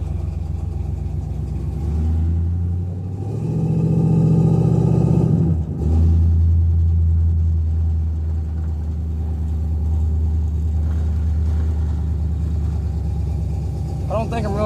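A car idles and drives slowly on a public road, a steady low engine rumble swelling briefly as it picks up revs around the middle, with someone talking over it.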